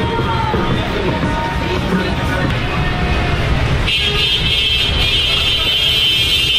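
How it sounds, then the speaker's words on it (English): Dense Times Square street traffic at night gives a continuous roar of vehicles and crowd babble, with faint honking mixed in and a high tonal sound entering partway through. "Listen to the horns and the traffic, guys. Non-stop."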